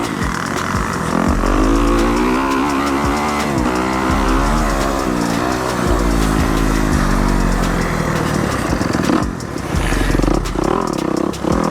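Motocross dirt bike on a sight lap of a Houston-area motocross track, engine revving up and down continuously close by as the rider shifts through the layout.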